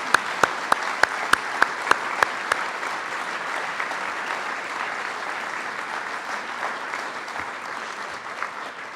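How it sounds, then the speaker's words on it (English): A ballroom crowd at an Irish America Wall Street 50 gala applauds the honorees, opening with a few sharp, evenly spaced loud claps close by, then a full, steady wash of clapping from many guests sustained for several seconds. "Let's put our hands together and give our Wall Street 50 honorees a great round of applause."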